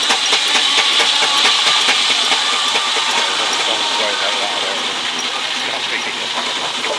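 Steam traction engine driving a saw bench at a country steam fair, a steady loud hissing, chuffing mechanical roar with broadband noise and a slightly uneven, hunting rhythm throughout.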